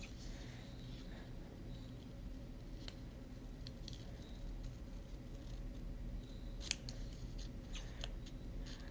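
Scissors snip through paper while a LEGO-style street sign is cut out, soft quiet clips and rustles repeating over low room noise, with a couple of sharper cuts standing out near the end.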